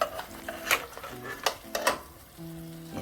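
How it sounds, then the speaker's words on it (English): Beef neckbone and bone sucking sauce go into a cooking pot, heard as a quick series of close metallic clinks and scrapes over a faint sizzle, with brief tonal hums between them. "I'm gonna place the meat in this pot and I'm gonna add the sauce to it"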